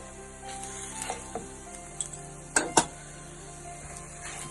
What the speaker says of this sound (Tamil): எல்லாத்தையும் ஒண்ணா போட்டு வதக்கிடலாம்